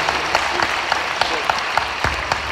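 An audience at a community pride awards ceremony claps in a loud, dense burst of applause. A few sharper individual claps stand out over a low, steady hum.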